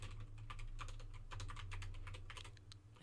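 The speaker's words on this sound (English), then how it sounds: "If I can type." Fingers tap quickly on a computer keyboard, a close run of uneven clicks over a faint low hum.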